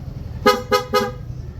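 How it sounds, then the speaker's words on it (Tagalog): PIAA dual horn fitted to a Yamaha Fazzio scooter sounds three short, loud, evenly spaced honks in a quick rapid burst, close to the microphone, over a low background hum. "kinabit natin PIAA dual horn setup"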